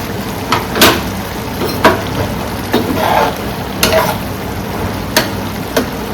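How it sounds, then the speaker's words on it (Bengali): Papaya and prawns simmering in a pan of water over a low gas flame, with a steady close bubbling sizzle punctuated by occasional sharp clinks and scrapes of a utensil. "পেঁপে সেদ্ধ হচ্ছে, এখনো হয়নি।"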